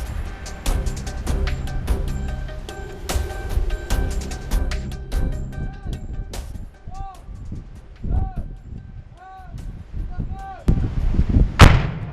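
A string of sharp bangs and thuds with voices between them, then a loud, booming explosion of a demining charge bursts near the end.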